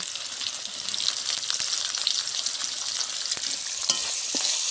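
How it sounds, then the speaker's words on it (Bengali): Chopped onions fry in a pan for a jackfruit curry, giving a steady, dense sizzle throughout with occasional sharp crackles and pops, close and continuous with no talking. "ভালো করে আমি পেঁয়াজগুলো ভাজবো।"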